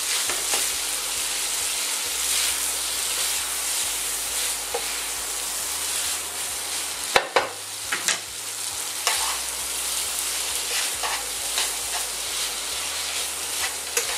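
Arugula added to a hot pan of squid ink spaghetti with seafood and tomato, a continuous frying sizzle with a sharp clatter of stirring midway and scattered soft scrapes; no talking.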